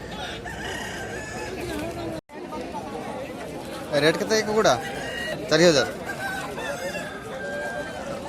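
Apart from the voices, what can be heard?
rooster crowing at Aseel rooster market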